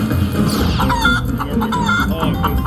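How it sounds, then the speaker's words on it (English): Cartoonish chicken clucks and squawks from the Chicken Blast slot machine game, a dense overlapping flurry of bright fowl calls over continuous casino machine chimes and music. "Chicken blast, what's this? A lot of chickens?"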